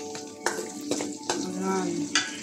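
Sliced garlic and onion fry in a pan with a steady close sizzle, broken by a few sharp clicks and clatters of a utensil against the pan.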